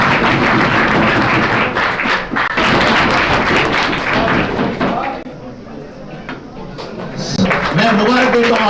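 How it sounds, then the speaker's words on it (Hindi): Students and teachers at a boys' higher secondary school event applaud a pupil, the clapping loud and busy with some thumps, then it dies down and a voice speaks. "तालियां बजाएं।"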